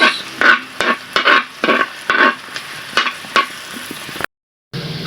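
Garlic and onion sauté in oil in a pan, sizzling in a rhythmic series of loud bursts as they are stirred, close up, before a brief silence and a final sizzle.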